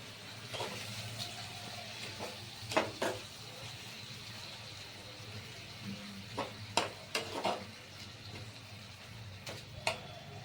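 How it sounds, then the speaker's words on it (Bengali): Potatoes for aloo dum sautéed with a little water in a pan, a low steady sizzle with occasional scrapes and taps of the spatula, quiet and close. "অল্প জল দিয়ে এটাকে একটু সাঁতলে নিচ্ছি"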